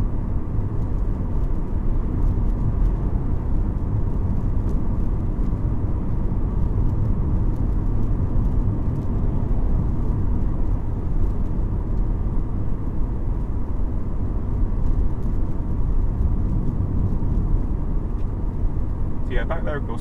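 A car cruising at 40 mph in fourth gear along a clear straight road, with a steady low engine and road rumble heard from inside the cabin, continuous throughout.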